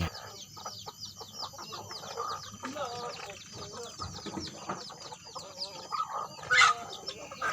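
Free-range village chickens cluck steadily around a rural farmyard, with a few louder squawks rising near the end and a faint voice or two in the background.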